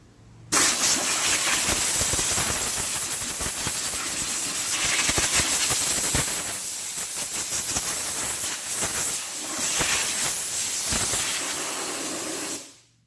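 Compressed air blasts steadily onto a wheel being prepped for refinishing, a loud broadband hiss running nearly unbroken for about twelve seconds with slight surges, then cutting off abruptly.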